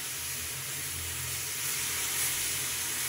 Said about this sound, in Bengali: আমি এটাকে সুন্দর করে ঝটপট করে হাই হিটে নাড়াচাড়া করে নিতেছি।